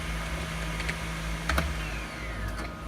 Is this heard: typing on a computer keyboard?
yes